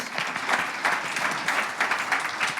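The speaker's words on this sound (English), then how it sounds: "I think a round of applause for Ray, because it's good to hear that." An audience at a panel Q&A session at a summit breaks into applause, a steady, moderately loud patter of many hands clapping together for the whole stretch.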